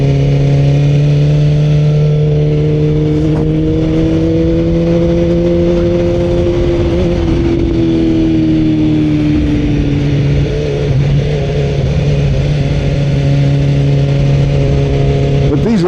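A BMW S 1000 R motorcycle engine drones loud and close while riding on a bumpy road, its pitch sliding down and back up as the rider eases through a corner, with wind rush underneath.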